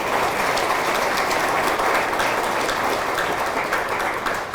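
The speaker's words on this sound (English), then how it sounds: "That deserves applause right there." An audience at a high school athletic hall of fame ceremony applauds steadily, a dense, even wash of clapping that holds loud throughout without a break.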